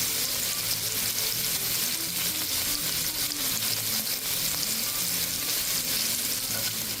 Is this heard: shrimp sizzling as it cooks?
yes